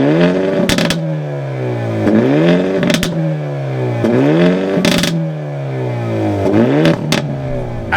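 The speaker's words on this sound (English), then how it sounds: "when you put it in the N mode, it really sounds, it pops," A 2022 Hyundai Elantra N in N mode revs hard through repeated gear shifts, each climbing four-cylinder drone cut by sharp exhaust pops and crackles, loud and close with no talking.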